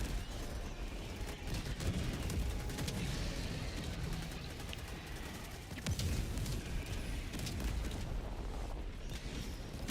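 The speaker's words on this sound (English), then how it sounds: "now I'm throwing out my Gatling sentry to provide some cover in that area" Gatling sentry turret in Helldivers 2 firing a steady stream of rounds, a dense, continuous rattle of gunfire that runs the whole time amid battle noise and occasional louder bursts.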